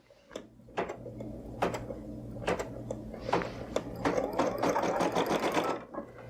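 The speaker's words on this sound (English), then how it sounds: "I'll drop the presser foot and press the go button." Embroidery sewing machine stitching free standing lace, a steady close mechanical hum with rapid needle clatter and repeated sharp clicks, growing busier and louder toward the end with no talk.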